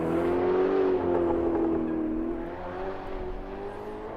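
A Ferrari GT2 race car in a racing video game, its engine a loud, steady, whining drone near by whose pitch sags slightly as it runs on.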